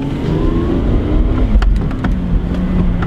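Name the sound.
car accelerating off the line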